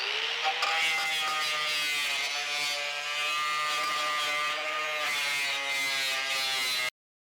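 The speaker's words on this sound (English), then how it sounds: "I'm gonna start with my wire wheel and just clean up this metal so we can see" A wire wheel spins against rusty car body metal with a steady, high whining buzz and rough scratchy grinding, running continuously and loud before cutting off abruptly.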